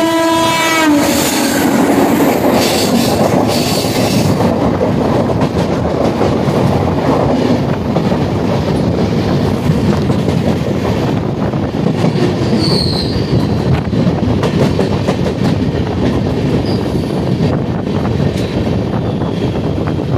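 A train at Ernakulam railway station sounds a loud horn, then rumbles past with wheels squealing and rhythmic clacking on the rails, steady and close throughout.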